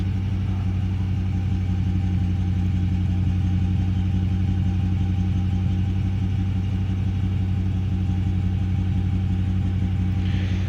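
A 2016 Dodge Charger R/T with Borla Pro XS mufflers idles with a deep, steady, even exhaust rumble, recorded close and unchanging throughout with no voices.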